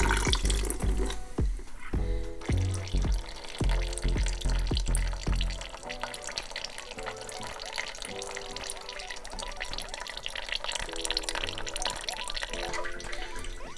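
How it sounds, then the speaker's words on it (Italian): Water and oil pour and splash steadily out of a Kawasaki 990 Adventure motorcycle's drain, a continuous gushing flow up close, with a few clanking knocks near the start. "E abbiamo scaricato sia l'acqua che l'olio."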